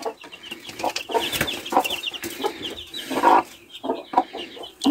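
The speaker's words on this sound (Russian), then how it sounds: "Ну-ка, твои маленькие цыплятки." Newly hatched laying-hen chicks raised at home peep in rapid, high, overlapping chirps close by, continuing steadily with a few louder calls.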